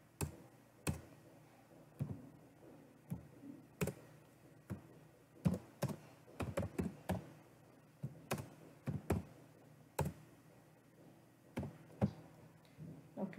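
Keys clatter on a computer keyboard as a database query is typed, irregular bursts of clicks and taps with short pauses between, fairly close and alone with no talk.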